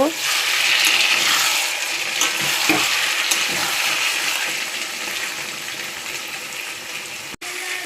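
Chicken kosha cooking in a pot is stirred after the lid comes off, with a steady close frying sizzle and occasional scraping stirs that gradually quieten.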